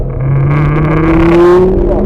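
A Lamborghini accelerates under throttle through a hard left-hand corner, its engine note loud and close, rising steadily in pitch across the whole stretch with no talk over it.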